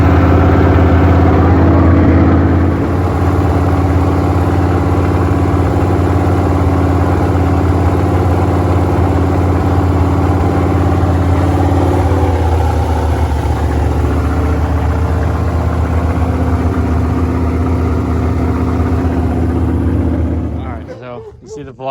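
A Plymouth Volare engine with a carburetor in need of rebuilding runs rough at a steady, loud idle for about twenty seconds, then cuts out at the end.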